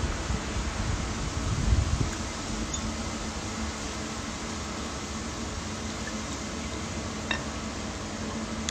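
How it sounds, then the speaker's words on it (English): Steady wind blowing across a phone microphone outdoors, a constant soft broadband rush with low rumbling buffets, one brief stronger gust near the start, no talking heard. "Oh, it's windy."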